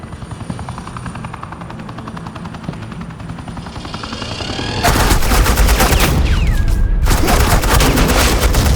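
Sustained automatic gunfire from a Batman: The Enemy Within video game scene, a loud dense burst of rapid shots that erupts after a stretch of rumbling aircraft-like drone and carries on to the end.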